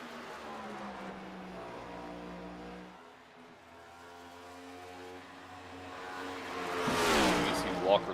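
A race car lapping Bristol Motor Speedway, its engine a sustained tonal drone that dips and then swells louder as it revs toward the end, with commentators talking over it.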